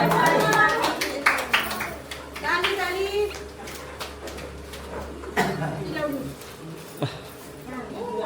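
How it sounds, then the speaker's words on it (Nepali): Family members clap at a grandfather's 84th birthday celebration, his first ever. A few quick bursts of clapping come early, mixed with lively voices of adults and children talking over one another nearby. "ताली ताली ल"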